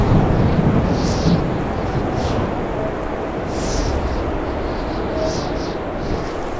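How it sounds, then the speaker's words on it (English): A new storm blows into a valley: a low, broad, continuous roar like wind and distant rumbling, swelling slightly at the start and then holding steady at moderate loudness. "The perfect nightcap to their day was the distant howl of a new storm blown into the valley."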